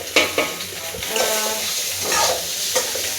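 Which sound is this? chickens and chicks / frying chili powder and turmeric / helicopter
frying chili powder and turmeric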